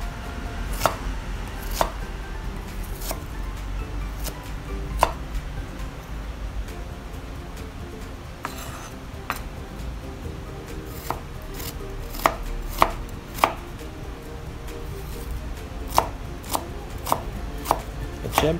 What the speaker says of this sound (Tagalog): So meron tayong sibuyas. Ayan, hiwain lang natin ng maliliit, pa-cubes.